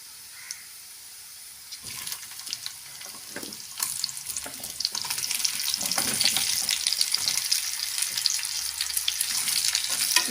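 Cut raw banana sautéing with onions in a pan over medium flame for a pepper fry, a close hiss of frying that swells into a dense, continuous sizzle with stirring scrapes.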